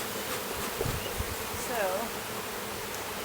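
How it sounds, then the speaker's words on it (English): Honey bees buzz steadily around an opened backyard hive during an inspection in North Port, Florida, a close, constant hum with individual bees zipping past the microphone, and a person briefly speaks. "dumped a whole bunch of bees out of the bottom when the frames"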